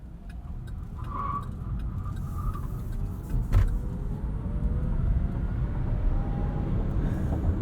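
A 2022 Chevrolet Bolt EV coasting off throttle after slowing from speed, with steady road and tire rumble and faint electric whine, one brief thump partway through, and no voices.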